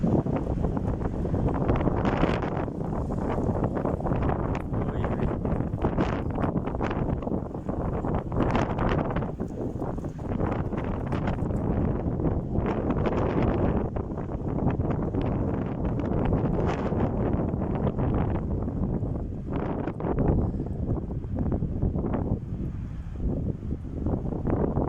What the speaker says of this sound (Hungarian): Akkor átlök a szél,